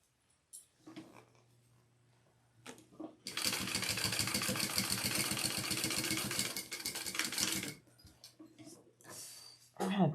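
Sewing machine basting a sling pack, a fast steady stitching run of about four seconds, close and clear, framed by quieter handling noises and a low hum before and after.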